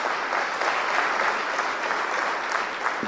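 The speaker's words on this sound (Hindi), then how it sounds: "सबसे पहले एक बार हम ताली बजा के जो असली हीरो है उनका सम्मान करें," Crowd applause at a public women's awareness and honour event in Bhopal, a dense, continuous wash of many hands clapping at steady volume, with no break throughout.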